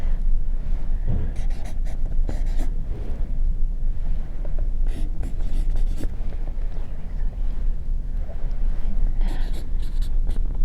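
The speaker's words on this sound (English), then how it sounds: "let me write it down here first." Pen or pencil writing by hand on paper during a Cree language lesson: close scratchy strokes in irregular bursts with short pauses between them, heard alone.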